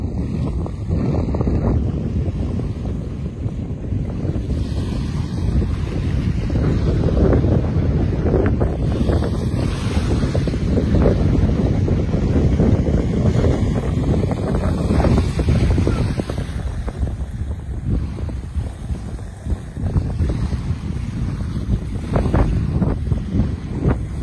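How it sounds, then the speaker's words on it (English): Sea tide washing in across the rocks of Jaywick Bay, a steady, loud, continuous rush of surf with heavy wind buffeting the microphone throughout. "But look at the way the tide comes across the rocks."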